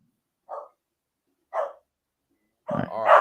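Dogs bark in a home during a live online show: two short single barks a second apart, then a louder, longer burst of barking near the microphone, with no talk.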